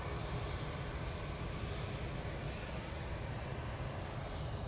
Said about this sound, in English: We'll get the Eurowings going back off to Stuttgart.